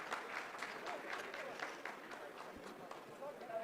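Applause from a room of ISRO scientists after a lunar lander descent phase completes, a steady, dense wash of clapping at low level, fairly distant, running throughout.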